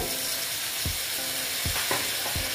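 Ridge gourd and moong dal frying in a pan give a steady sizzle, with several short bursts as a little water hits the hot oil and stirring clatters through it. No one speaks.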